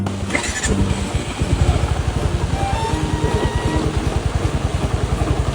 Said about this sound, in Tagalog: para maipakita na rin sa inyo at maiparinig yung andar ng makina niya